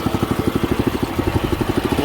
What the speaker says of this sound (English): So there's no kill switch on this, so you just gotta rev the engine up a little bit.